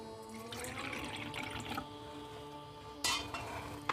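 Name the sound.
water poured into small ritual water vessels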